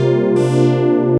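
Analog-modeled synth chords built from detuned sawtooth oscillators, with a rich buzzing tone. One chord holds and a second, brighter chord enters a third of a second in, sustaining loud and close before a quick release.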